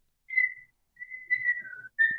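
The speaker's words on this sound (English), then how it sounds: "What is that noise? It's a whistle" A person whistles a bright, birdlike tune that sounds like a parakeet, in three clear phrases with short pauses between them, close to the microphone and with no talking.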